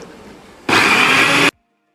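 A kitchen blender purees dragon fruit with a little water, whirring loudly for under a second after a quiet start, then cutting off abruptly into silence.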